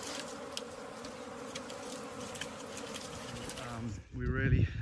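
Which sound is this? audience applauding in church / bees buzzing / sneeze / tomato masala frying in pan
bees buzzing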